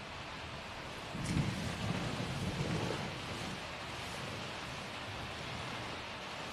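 Steady rain falling, a constant hiss throughout with a brief low rumble swelling in the middle before settling back to even rainfall.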